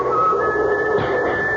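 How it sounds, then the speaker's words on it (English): Whistling sound effect in a live radio theatre murder drama, a steady sustained whistled tone held for over a second and a half, fairly loud and alone without talk. "and then I heard someone whistling"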